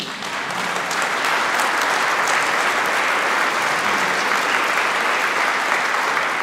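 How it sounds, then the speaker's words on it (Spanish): Wedding guests at a church ceremony applaud together in a loud, sustained burst of dense clapping that holds steady from start to finish. "Damos un fuerte aplauso a todos."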